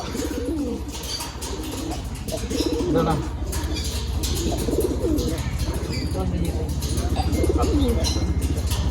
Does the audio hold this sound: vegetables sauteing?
no